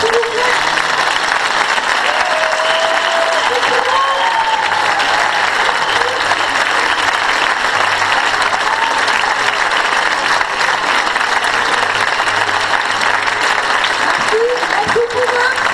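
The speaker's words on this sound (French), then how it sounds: "Alors, on peut applaudir les échantillons" An audience at a children's circus show claps for the young performers, with long, steady, moderately loud applause that carries on throughout while a few voices and scattered whoops rise over it.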